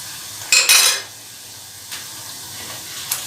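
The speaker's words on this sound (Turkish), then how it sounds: "salçayla beraber de kavrulsunlar" Onions frying with tomato paste in a pan. A spoon clatters and stirs loudly at first, then a quieter sizzle continues, with a couple of soft scrapes later.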